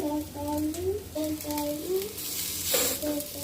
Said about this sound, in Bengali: অল্প তেল দিয়ে একটু এপিটোপিট ভেজে নেব